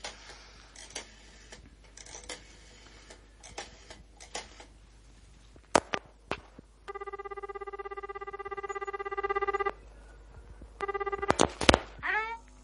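A telephone in a French radio play buzzes with a steady electronic ring in two bursts after some clicks and dialing sounds, heard close and clear.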